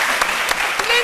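A studio audience at a French-language midday television show claps steadily and densely, filling the whole short stretch with loud, close applause.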